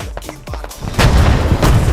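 A few sharp thumps, then a heavy booming rumble that swells and holds, a close explosion in the video game Squad.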